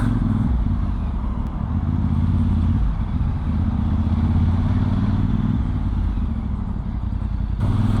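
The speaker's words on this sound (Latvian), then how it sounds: "Pārbaudīsim, kā šis mocis arī lien starp mašīnām." A VOGE DS800X Rally motorcycle engine drones steadily while riding through traffic, filtering between cars, with a constant loud buzz and faint clatter, no voices.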